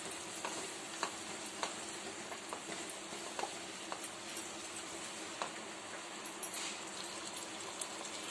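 Biryani masala with three spoons of yogurt sautéed together in a pan for banana-leaf dum biryani, a quiet, steady sizzle broken by faint scattered clicks of a spoon stirring, with no talking.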